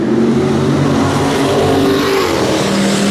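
A Chevrolet S10 race truck launches hard at the drag strip with its tires spinning, a loud, steady engine roar sustained throughout without voices.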